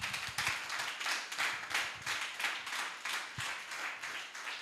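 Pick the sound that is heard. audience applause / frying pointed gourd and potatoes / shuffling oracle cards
audience applause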